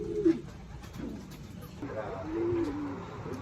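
Racing pigeon hens cooing softly in a loft, two low throaty coos a couple of seconds apart against faint background noise.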